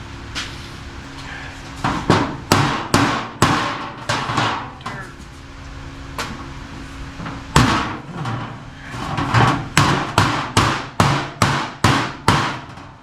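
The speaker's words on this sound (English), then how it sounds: "Just going to hammer." Repeated loud hammer blows strike a metal floor pan in uneven bursts, some quick and rapid, others spaced apart, each ringing briefly with a clanging edge.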